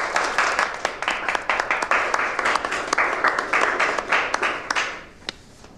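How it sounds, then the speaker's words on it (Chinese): An indoor group breaks into applause at an office meeting, a dense burst of many hands clapping for about five seconds before tapering off, with a few last claps. "大家鼓掌。"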